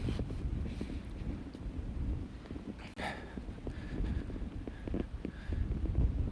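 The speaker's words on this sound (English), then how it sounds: "It's a little bit windy here today." Wind buffets an outdoor microphone beside open water with waves, a steady low rumbling roar with gusty swells and one brief dip, no speech.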